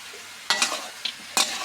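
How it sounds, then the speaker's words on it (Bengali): Duck meat stir-fried with green chilies in a pan, with a soft sizzle under a few sharp scraping stirs in quick bursts, close and fairly quiet. "আর মাংসটা সুন্দর কষাই নিব।"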